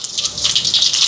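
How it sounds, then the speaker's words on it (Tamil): Mustard seeds spitting and crackling in hot oil while tempering spices for a Sri Lankan almsgiving meal, a dense, steady bright sizzle with rapid popping throughout, close and fairly loud. "எண்ணெய் சூடாயிட்டு கடுகு சேர்க்குறேன்"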